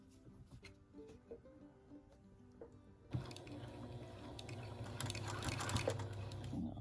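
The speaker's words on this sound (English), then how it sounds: "and start sewing right there, the edge" A sewing machine stitches along the edge of a baby quilt. Quiet handling comes first, then the motor starts with a bump and keeps up a steady, close whirring hum.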